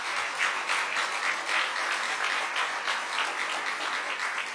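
Steady applause from an audience honoring firefighters at a political event, dense even clapping filling the whole stretch at moderate distance with no talk over it.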